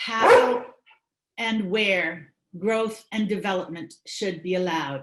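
A dog barks in the background of a Zoom town-association meeting, short sharp barks mixed under someone speaking throughout.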